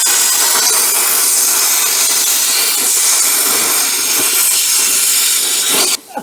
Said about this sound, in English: I'm just going to go ahead and get the plasma cutter out and chop them off